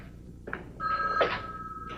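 A household telephone rings in a residence, a sustained electronic ring tone starting partway through and holding steadily to the end, moderately loud and close, with no talking over it.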